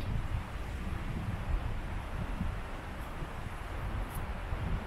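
Strong wind buffets a microphone outdoors, producing a continuous loud low rumble with gusty surges and no speech.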